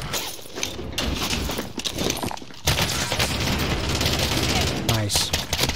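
Dense bursts of gunfire in a Call of Duty Warzone match, rapid volleys and scattered shots packed together at close range, with a brief lull partway through before the shooting resumes loudly.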